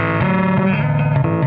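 Loud, sustained distorted tone from an effects pedal as its low-pass filter rolls back the bright frequencies, the harmonics wavering and pulsing steadily with no talking.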